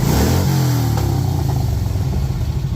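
Harley-Davidson CVO Electra Glide engine idling loud and close, a deep steady throbbing rumble with a pulsing lopsided beat, heard alone with no voices.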